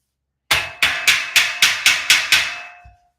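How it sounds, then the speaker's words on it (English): Seven sharp metallic hammer strikes ring out in a steady rhythm while a steel five-shelf shelving unit is put together, each blow close and loud with a bright clang that decays into a lingering tone. "We're going to put hammer."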